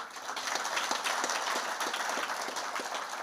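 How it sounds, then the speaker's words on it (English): An audience at a volunteers' meeting in Limpopo gives a round of applause, a steady wash of many hands clapping for a few seconds at moderate distance, with no voices clearly over it. "you deserve a round of applause."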